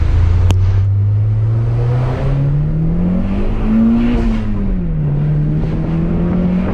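A Nissan S13 engine drones loudly from inside the car during a drive, its pitch climbing and easing as revs rise and fall, with a faint click near the start.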